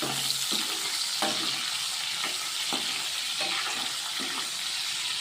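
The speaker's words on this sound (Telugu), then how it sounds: "ఎండు చేపలు నూనెలో ఫ్రై చేసుకోవాలన్నమాట." Dried fish pieces frying in oil give a constant, dense sizzle, broken by a few soft knocks as the pieces are turned, with no voices.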